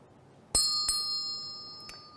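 A convent bell struck to wake the sisters at four in the morning rings out with a sharp clang, followed by a second strike and a long shimmering ring that slowly decays, with one faint tap near the end.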